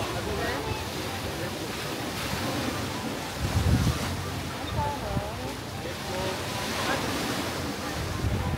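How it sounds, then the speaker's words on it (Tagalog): Ocean waves break and wash in a steady roar at Puka Beach, Boracay, with gusts of wind buffeting the microphone and a brief louder surge midway. "Maririnig mo yung lampas ng alon."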